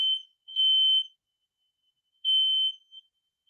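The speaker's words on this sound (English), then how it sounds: "so the fire alarm is hardwired in, right? And it keeps chirping." A hardwired smoke detector with no batteries gives two short, high electronic chirps a couple of seconds apart, clear and isolated in an otherwise silent room.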